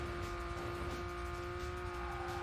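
Cars on a highway in a racing video game: a constant engine tone that holds one steady pitch over road rumble, with faint tire noise underneath.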